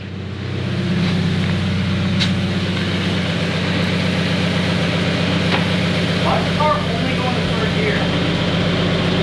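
A car with a failing transmission that will only go into third gear gives off a loud, steady engine drone with an odd low rumble close by, while people talk over it.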